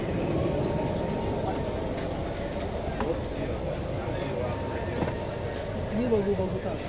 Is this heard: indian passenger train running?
yes